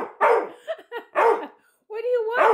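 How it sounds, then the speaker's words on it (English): A dog gives loud, close barks and yips in several bursts, with whiny, vocal tones between them, and a person's voice is mixed in. "He just barks in my face."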